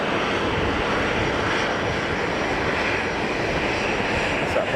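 Aircraft at Geneva Airport, a steady broad engine roar with no clear rise or fade, loud and continuous over the whole stretch.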